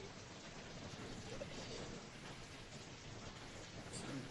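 Rain pours in an even, dense hiss with a low rumble underneath suggesting distant thunder, a quiet, continuous storm ambience with no talk.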